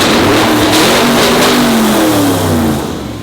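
LS V8-swapped Mazda Miata drift car, built on the cheap, revs loud and close, its engine note rising and falling steadily through the whole stretch with no talk.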